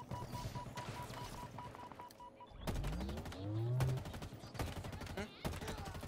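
Turret gunfire in the video game Halo Infinite, with rapid automatic bursts and booming impacts mixed among other game effects and music, moderately loud and sustained over several seconds.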